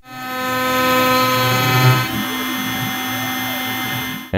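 An OpenBuilds MiniMill CNC machine mills aluminum with a steady, harsh whine and strained tonal grinding that shifts pitch partway through, then cuts off abruptly at the end.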